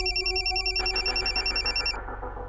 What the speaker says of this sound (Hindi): राज फोन उठा प्लीज।